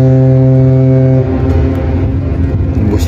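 A loud, deep ship horn blares steadily for about a second on a river through a forest, then gives way to rumbling engine and wind noise.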